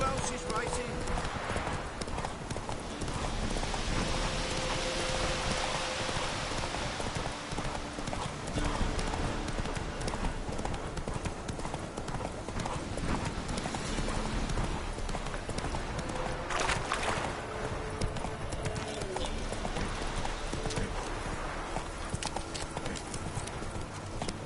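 Horse hooves clip-clop steadily through a PS4 video game, a continuous near trotting rhythm under game sound and a voice talking throughout.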